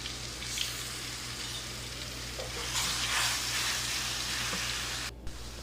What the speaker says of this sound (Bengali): এখন একটু তেল দিয়ে সেখানে আমি রসুনগুলোকে একটু লাল করে নেব ভেজে।